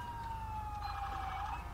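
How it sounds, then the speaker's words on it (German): Wailing police car siren in GTA V, a continuous sweeping electronic tone that rises and falls steadily over a low engine rumble, fairly close, with no talk. "Dass uns hier die Sirene nicht auf die Nerven geht"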